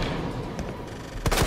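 A burst of gunfire in the survival horror game Resident Evil 2 Remake, with a sharp crack near the end sitting over a dense, noisy game background.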